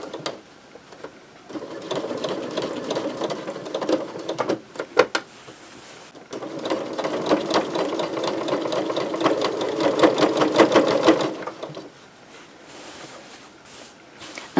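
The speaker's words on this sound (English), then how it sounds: "I'm not going to make you watch me sew all of this." A sewing machine stitching the hem of a holiday apron, its rapid mechanical chatter running in bursts that pause and restart and slow over thick folds, close and fairly loud with no talking.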